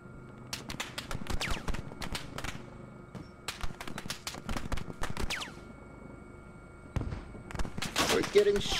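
Gunfire in the military shooter game Squad, bursts of sharp shots and rapid volleys coming in clusters with short quiet gaps between, some close and loud, ending in a heavier burst.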